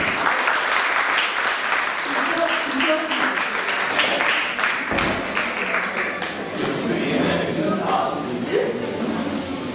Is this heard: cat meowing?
no